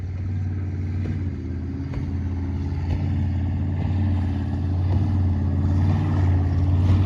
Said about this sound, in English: There goes one of those power boats jumping up and down in the river.